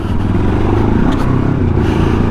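A 2025 Moto Morini X-Cape 700 motorcycle engine roars loud and close in a steady, continuous drone while riding, with no talking.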